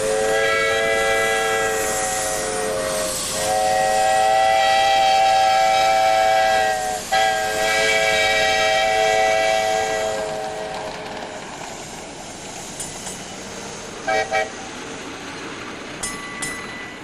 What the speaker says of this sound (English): The trolley freight motor backs into a siding.